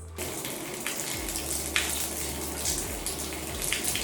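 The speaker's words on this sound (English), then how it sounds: "after you've lathered the shampoo throughout your hair, it's time to rinse" Water streams steadily from a shower as Playa Everyday Shampoo is rinsed out of curly hair, a continuous close gushing and splashing with no talking.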